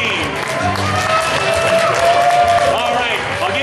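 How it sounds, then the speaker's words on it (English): Audience at a furry convention Family Feud game show applauding a team, a lively burst of clapping and cheering from a crowd with some voices mixed in. "let's give a round of applause for the Trash with Hope team"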